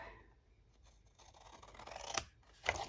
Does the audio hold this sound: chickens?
no